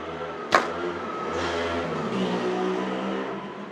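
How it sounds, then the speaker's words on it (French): A motorcycle passes by outdoors, with a sharp knock near the start and then an engine drone that swells and fades over a few seconds, moderately distant, with no talking. "Merci la moto"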